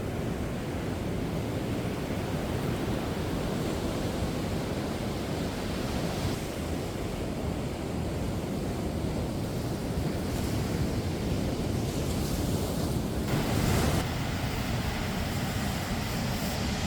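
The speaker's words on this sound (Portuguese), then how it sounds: "a água tá bem mexida por causa das ondas" Rough ocean surf on a beach, the water choppy from the waves; a constant, loud roar of breaking surf and wind, with a few swelling surges, and no voices.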